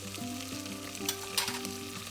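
Chopped onions frying with ginger-garlic paste sizzle steadily in a pan, with a continuous hiss and a few scraping stirs. No one speaks.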